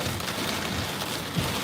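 Steady rain during a storm, a dense continuous hiss of drops striking surfaces, close and even throughout with no voices.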